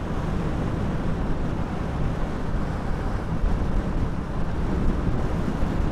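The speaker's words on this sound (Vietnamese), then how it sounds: "Mình chạy hơi nhanh, gió hơi lớn." Steady, loud wind buffets the microphone while riding fast along a new concrete road beside the Chùa river in Tuy Phước, Bình Định, Vietnam, a continuous rushing roar with no pauses.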